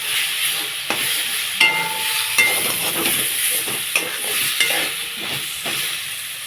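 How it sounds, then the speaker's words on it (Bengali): Chopped potatoes drop into spiced masala for a crab and ridge gourd curry, sizzling steadily in hot oil with repeated scraping stirs and clatters of the spoon close by, no voices. "এখন কেটে রাখা আলু দিয়ে দেবো"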